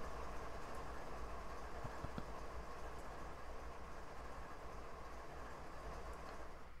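A Norfolk Southern coal unit train in Train Simulator 2017 rolls along hauling empty cars, a steady broad rumble with faint rail clicks and no breaks, heard alone at an even level.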